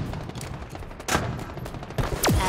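Video game gunfire in Halo Infinite, a quick series of close shots and impacts in a busy firefight, ending with a sharp descending whooshing effect.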